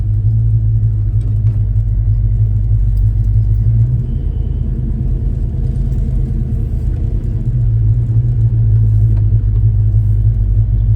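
A 1970 El Camino's engine rumbles steadily on a test drive, a loud low drone heard from inside the cab with slight pitch shifts as it changes load.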